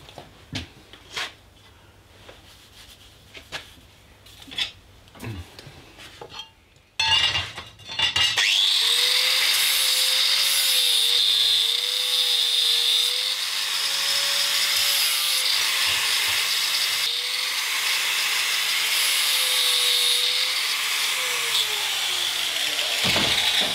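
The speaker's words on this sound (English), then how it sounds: "now I've got to grind it all back flat before I actually re-drill the hole" A grinder grinds steel back flat: a loud, steady grinding roar starts after a few seconds of quieter scraping and runs continuously to the end, with a slight wavering pitch.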